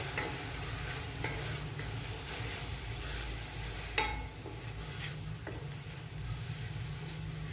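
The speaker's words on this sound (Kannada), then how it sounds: "ಈರುಳ್ಳಿ ನಾನು ಗ್ರೈಂಡ್ ಮಾಡಿಟ್ಟಿದ್ದು ಅದನ್ನು ಹಾಕ್ತಾಯಿದ್ದೇನೆ" Ground onion paste sizzles steadily in a pan with curry leaves for a shahi mixed vegetable kurma. A low rumbling hiss runs throughout, broken by occasional scraping strokes of stirring.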